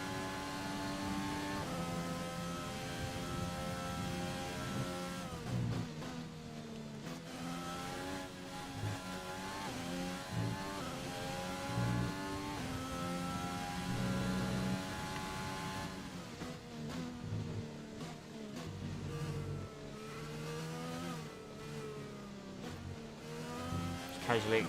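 An F1 race car engine in the video game F1 2020 revs hard and steadily, its high whine climbing and dropping through repeated gear-like sweeps, loud and close, with a voice talking over it.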